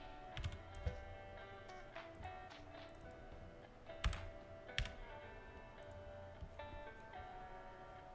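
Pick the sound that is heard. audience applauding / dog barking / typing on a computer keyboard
typing on a computer keyboard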